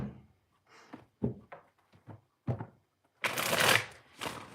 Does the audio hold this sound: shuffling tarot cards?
yes